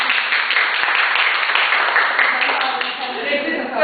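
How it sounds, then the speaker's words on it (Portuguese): A group of women applauding together at an early-childhood music education session, steady dense clapping held at an even level throughout, with some voices mixed in. "Vamos aplaudir, gurias."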